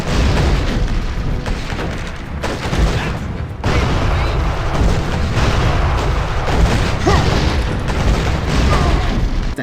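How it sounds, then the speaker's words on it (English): Cannon blasts and explosions from the 2005 video game Gun, loud and continuous across the whole stretch, with booming impacts layered over dense gunfire-like crackle and no clear pause. "using said cannon to obliterate said fools"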